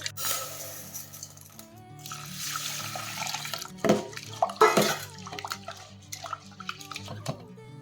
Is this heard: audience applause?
no